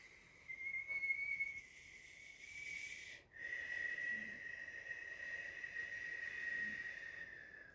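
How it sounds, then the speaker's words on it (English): A thin, high whistle held steadily, breaking briefly in the middle before resuming, quiet and close like air drawn through pursed lips. "You can make a sound, an inward whistle or something."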